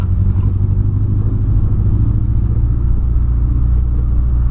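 A Volkswagen Polo engine with a misfire runs under acceleration, giving a loud, close, continuous low rumble with an uneven, faltering pulse.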